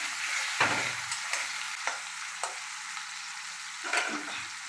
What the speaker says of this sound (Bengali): পেঁয়াজ টমেটোটা তাড়াতাড়ি প্রসেসিংয়ের জন্য আমি অল্প নুন দিয়ে দিলাম এটা যাতে তাড়াতাড়ি ভাজা হয়ে যায়